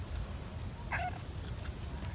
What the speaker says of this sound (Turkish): Kedi ne istiyor?